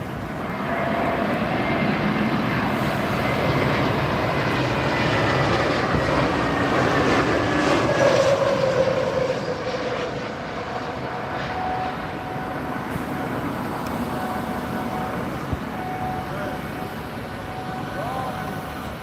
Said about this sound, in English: Sounds like an aircraft doing engine runs.